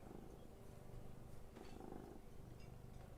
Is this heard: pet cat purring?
yes